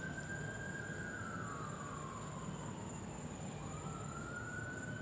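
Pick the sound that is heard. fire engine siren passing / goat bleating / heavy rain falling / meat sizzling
fire engine siren passing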